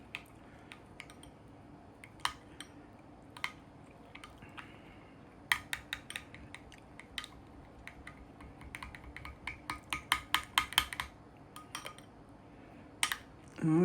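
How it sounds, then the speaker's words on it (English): Blue corn bread batter being stirred in a bowl, soft scraping and tapping clicks that grow quicker and denser toward the end, quiet and close with no talk. "So what I'm going to do is just mix it all together until it's all incorporated."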